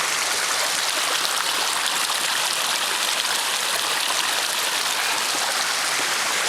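A mountain river flows beside a bivouac spot, a steady, dense rushing of water close by with no other sounds or voices.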